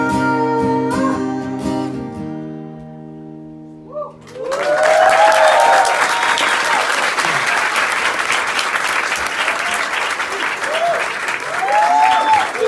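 After a sustained guitar chord fades, an audience at an acoustic show bursts into loud, dense applause with whoops and cheers, holding steady for about eight seconds.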